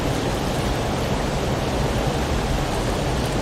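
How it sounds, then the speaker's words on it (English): A waterfall in the video game Call of the Wild: The Angler pours with a dense, steady roar of broadband rushing water, loud and unbroken throughout. "You hear the noise of the waterfall there"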